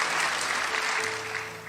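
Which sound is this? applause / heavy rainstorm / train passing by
applause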